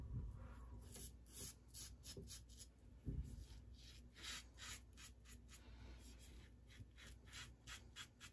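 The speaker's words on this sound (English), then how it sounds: "All right, a little bit louder on the against the grain pass." A safety razor scrapes across lathered stubble on an against-the-grain pass, giving a soft, close, continuous rasping of short strokes at low volume.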